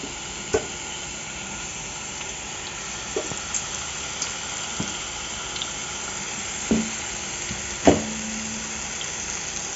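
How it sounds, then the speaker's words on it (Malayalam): Chicken pieces fry in hot coconut oil with a steady, moderate sizzle broken by scattered sharp pops and crackles, heard close up with no voices. "ഇപ്പം എണ്ണ ചൂടാകുമ്പോൾ നമുക്കതിലേക്ക് നമ്മുടെ ചിക്കൻ പീസ് എടുത്ത് വെച്ച് കൊടുക്കാം."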